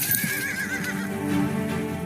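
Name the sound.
horses neighing, pulling Roman armored carriage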